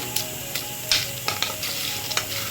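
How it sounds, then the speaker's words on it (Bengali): Seeds frying in hot oil while being stirred, a steady close sizzle broken by sharp spoon scrapes and taps against the pan at uneven intervals. "একদম লাল লাল করে ভেজে নিতে হবে"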